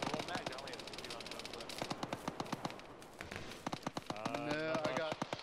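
Rapid machine-gun bursts and scattered rifle shots from a military shooter game ring out in sharp, repeated volleys, with radio-style team voices speaking over the firefight.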